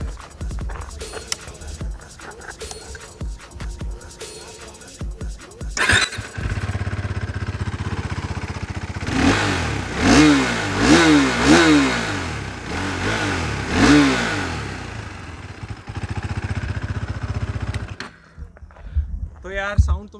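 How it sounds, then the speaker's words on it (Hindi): A 2020 BS6 KTM RC 390 motorcycle engine starts up and idles, then revs in several loud rising blips close to the microphone before cutting off, with speech before and after. "तो भाई चालू करते हैं इस गाड़ी को and I record the sound of the bike"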